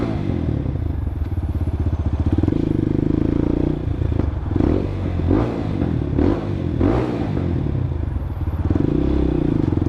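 A CSC TT250 229cc single-cylinder dual sport motorcycle thumps along at a steady idle-like pulse, then revs in a series of throttle blips with popping bursts before returning to its even chug, close and loud.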